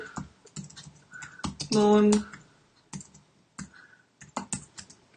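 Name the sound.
typing on a computer keyboard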